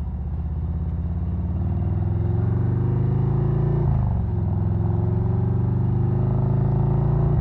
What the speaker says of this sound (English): Man, that bike sounds crazy.